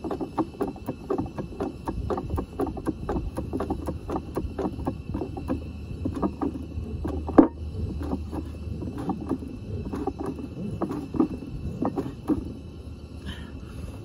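A cutlass bearing being drawn into place with a bearing puller gives off a quick, regular ticking and clicking that runs steadily throughout. A single sharper knock stands out near the middle, and no one speaks over it.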